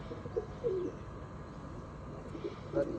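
Dhanne-wale breed pigeons coo softly in a few short, low, throaty bursts, faint against a steady background hum.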